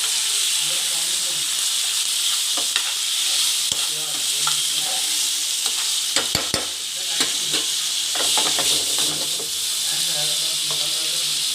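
Chicken liver (kaleji) fries in a pan with a steady, loud sizzle and hiss, stirred now and then with scraping clicks, while someone talks over it.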